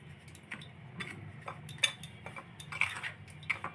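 Dry yeast, salt, sugar and milk powder stirred together in a bowl with a spoon, producing light, irregular clinks and taps of metal against the bowl, close and quiet with no voices.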